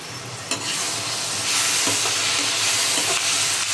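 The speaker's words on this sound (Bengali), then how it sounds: "তো দেখুন পেঁয়াজগুলো খুব সুন্দর করে সাতলাতে হচ্ছে" Onions sautéing in a pan for a Bengali eggplant and hilsa head curry, producing a loud, continuous close sizzle with a few stirring scrapes and clatters, without talk.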